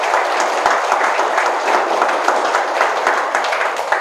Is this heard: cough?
no